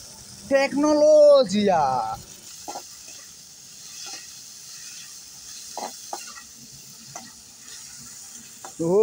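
Tomato and onion frying in hot oil, a low steady hiss with occasional clicks of stirring; a voice speaks loudly at the start and again briefly at the end.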